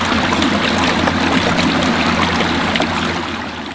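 Water released through a raised gate at an old water-turbine mill rushes and gushes steadily, a loud, continuous broadband flow with no talk over it.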